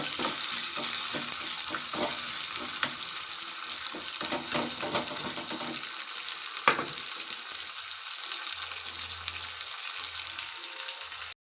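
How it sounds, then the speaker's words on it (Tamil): Green peanuts sautéing in a pan, a close continuous sizzle with scattered stirring scrapes in the first half, then a quieter steady hiss, no voices. "பச்சை வேர்க்கடலையை உதித்து போட்டுக்கலாம். இதை நல்லா கொஞ்ச நேரம் வதங்கட்டும்."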